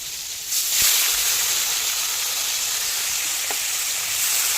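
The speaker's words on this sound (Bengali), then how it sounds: "তেলটা গরম হয়ে গেছে, এভাবে চিংড়িগুলোকে হালকা করে ফ্রাই করে নেবো।" Prawns hit hot oil for a light fry, ahead of a Bengali prawn biryani, setting off a loud, close, broad hiss that swells in at once and holds steady, with a couple of faint knocks and no talk.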